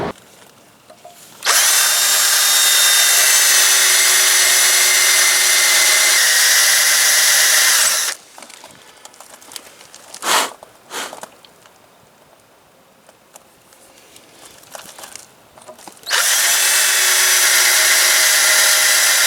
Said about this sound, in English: drilling this thing's proven to be a real pain with my crappy Black & Decker drill